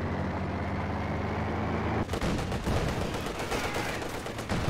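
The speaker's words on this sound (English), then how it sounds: "the penal battalions shoot lead down range" Dense, rapid gunfire from penal battalion infantry in a World War II real-time strategy match, sustained bursts of rifle and machine-gun fire crackling over a steady battlefield rumble, loud and close.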